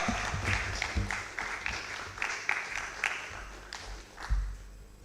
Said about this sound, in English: With this, can we give a clap donation to Honorable Adongo?